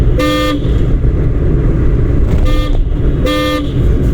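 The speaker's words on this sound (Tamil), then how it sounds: "ஹார்ன் அடிக்கணும்." Two car horn honks from a car during a driving lesson, each about a third of a second, over steady loud engine and road rumble, with a fainter short toot between them.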